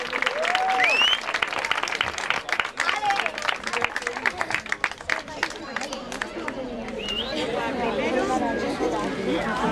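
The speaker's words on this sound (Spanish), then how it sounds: "Un aplauso para ellos." Audience clapping at a swimming awards ceremony, continuous crowd applause with chatter and an announcer's voice over it, the clapping dense throughout and easing slightly toward the end.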